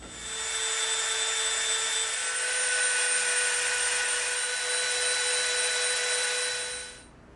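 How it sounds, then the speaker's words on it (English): A Dremel rotary tool grinds a bevel into EVA foam, a steady high-pitched whine with a constant buzzing hum that runs evenly for about seven seconds before quickly spinning down, close and fairly loud with no talking. "Now we're gonna make a bevel with our Dremel from this line to this line around both of these pieces."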